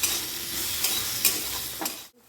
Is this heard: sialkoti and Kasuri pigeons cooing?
no